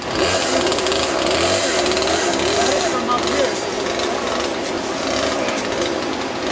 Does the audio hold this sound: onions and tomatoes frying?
no